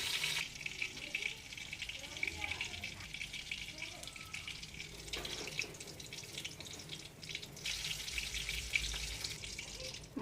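Fish head and tail frying in a little hot oil for a tuna curry: a steady, close crackling sizzle fills the whole stretch, with a brief dip midway before the frying noise returns just as strong.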